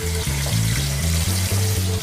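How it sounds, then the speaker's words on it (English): Chicken wings dropped into a deep fryer basket at 375 degrees hiss and bubble in a loud, dense, continuous sizzle with rolling bursts, heard up close. "Hear that sizzle? That's all the water that's still left on the chicken."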